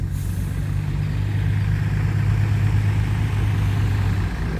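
A truck engine rumbling steadily while reversing to unload a tractor from a trailer, a loud low idle-like drone with a constant hum that holds throughout.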